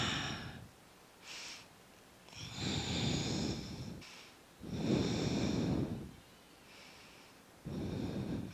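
Heavy breathing during a yoga twist: several long, loud breaths through the nose alternate with quieter pauses, each lasting about a second or more, close to the listener and alone, with no talking.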